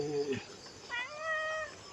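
A cat at a Thai temple meows close by. There is one low, drawn-out cry, then a pair of higher, rising meows, each under a second, with quiet gaps between.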